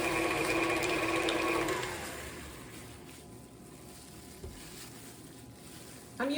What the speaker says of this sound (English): I'm using my KitchenAid.